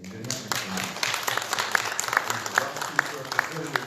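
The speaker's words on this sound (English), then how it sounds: "I'd like to ask everybody to give themselves a round of applause for being here this evening." An audience at a 2019 senator's evening forum gives itself a round of applause, fairly quiet and distant clapping under ongoing talk, with a few sharper individual claps standing out.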